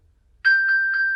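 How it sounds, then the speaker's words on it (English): An iPhone rings after being located through an Apple Watch, giving a clear, close electronic tone that starts abruptly and holds steady with slight pulsing. "that is my phone ringing"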